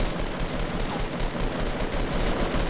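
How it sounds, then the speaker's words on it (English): Rapid bursts of automatic gunfire in the video game Fortnite, a dense, continuous loud clatter filling the whole stretch with no pause. "we're being shot at"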